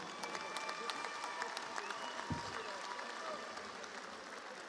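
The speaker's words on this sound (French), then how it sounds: "applaudir très fort Faisal Arami" Faint, distant applause from the crowd at a WBF world championship boxing event for boxer Faisal Arami, a thin spread of clapping with a single low thump partway through.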